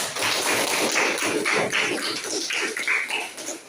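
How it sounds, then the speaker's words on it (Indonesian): Classroom applause from students for the winning group, a dense steady patter of many hands clapping together, loud and close, lasting a few seconds without talk. "Aplaus dulu"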